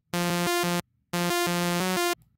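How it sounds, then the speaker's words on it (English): A plain sawtooth oscillator on the Europa synth in Reason 12, playing a bright, buzzy bass tone with dense harmonics. It sounds as two sustained phrases, each holding a short run of notes, with brief silence between them and no voice. "take the first one and simply just bring it to a sawtooth"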